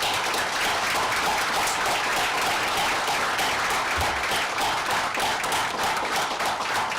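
Sustained audience applause fills the room at a ceremony commissioning a regional emergency shelter in Jimmit, a dense, steady clapping that stays loud and even from start to finish.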